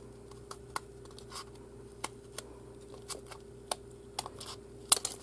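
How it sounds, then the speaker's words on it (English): Scissors cutting through several layers of recycled Christmas card stock, a scattering of quiet, sharp snips and crunches at irregular intervals, close but faint in a quiet room. "And then I'm just going to cut it so that those 2 points meet."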